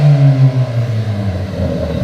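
Car engine revving in a parking lot, a loud close rumble that rises and falls through a couple of throttle blips before settling into a rougher idle.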